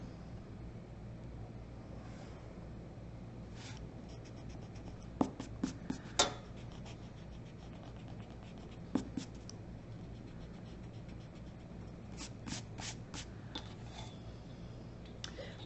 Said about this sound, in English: I'm going to line up my ruler, drag it out so it's parallel